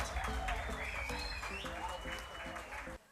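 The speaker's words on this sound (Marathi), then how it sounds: "जोरदार टाळ्या" An audience at a business conference applauds, a continuous wash of clapping that fades at the end, with a voice and tonal sounds running over it.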